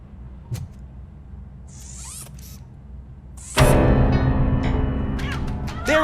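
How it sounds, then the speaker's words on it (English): A cat meows in the RoboCop: Rogue City video game, a few faint high cries near the start, then a loud clattering crash with more short meows over it. "That cat must be hiding inside."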